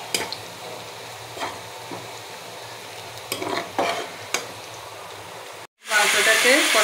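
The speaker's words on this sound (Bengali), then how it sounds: "সব পেঁয়াজ লাল লাল করে ভেজে দিব।" Onions frying in a pan until browned for chicken biryani, with a steady low sizzle and a few sharp scraping stirs; near the end it cuts out briefly, then returns as a louder, brighter hiss.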